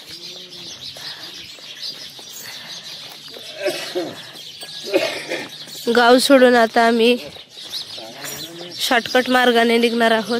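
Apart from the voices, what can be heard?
sparrows chirping in the morning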